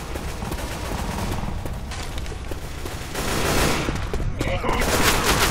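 Gunfire rings out in Left 4 Dead 2 on Crash Course level one, The Alleys, a steady rattle of shots that grows louder and denser midway, with characters' shouted voices mixed in.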